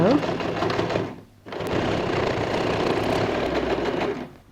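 Sewing machine stitching the edges of bag fabric runs in a steady, loud mechanical whir, pausing briefly once and then resuming, while a person talks over it.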